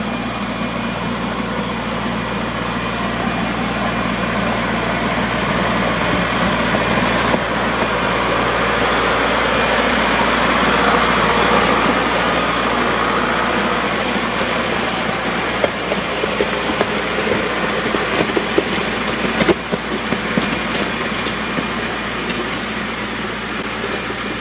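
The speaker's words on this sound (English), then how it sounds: "here comes the tractor" A tractor works a rain-soaked gravel driveway, a loud steady engine rumble with grinding and rattling running continuously throughout.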